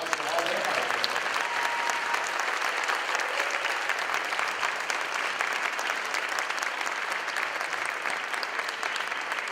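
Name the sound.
audience round of applause at band concert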